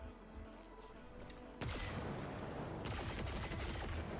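Heavy weapon fire in the video game ARK, a sustained roaring barrage of rapid shots that starts abruptly partway through and continues loudly to the end.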